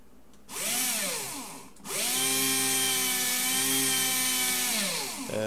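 Black & Decker Pivot Plus 6-volt drill/driver powered by laptop Li-Ion cells, spinning up in two bursts with whining motor pitch that rises, holds steady, then winds down, close and loud.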